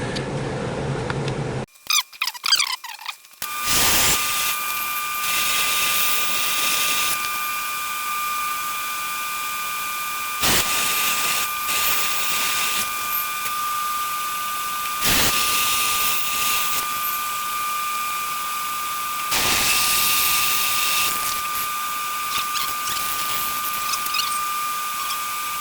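A long, steady high-pitched whine of a small drill running with brief pauses between passes, drilling and tapping holes in a Hoglet engine cylinder head, preceded by a few seconds of clattering and shuffling.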